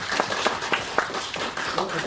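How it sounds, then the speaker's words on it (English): Conference audience applauding a panel on international organizations, scattered hand claps at moderate level forming a thin, uneven round of applause. "let's give them one more round of applause."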